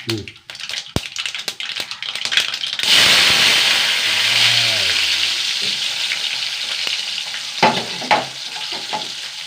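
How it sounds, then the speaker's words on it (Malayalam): Mustard seeds burst into hot oil with a sudden loud sizzle that settles into steady sputtering and crackling after a few soft clatters, with a brief voice near the start. "എണ്ണ വെച്ച് കൊടുക്കട്ടെ കേട്ടോ ചൂടാവട്ടെ കടുകിട്ട് കൊടുക്കട്ടെ"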